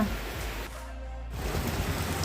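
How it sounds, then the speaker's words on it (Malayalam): Rain falls heavily in an even, dense patter, and the steady roar briefly thins out before returning just as strong. "നല്ല മഴയാണ് കേട്ടോ. നല്ല മഴ പെയ്ത്."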